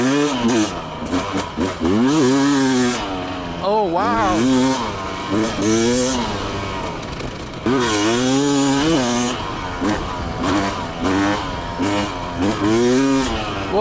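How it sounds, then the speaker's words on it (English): A Rieju MR 300i Pro two-stroke dirt bike engine on its fastest map, revving hard and rising and falling through repeated bursts as it hits the pipe, loud and close, with a rider's exclamations over it. "Just listen to the two-stroke when it hits the pipe."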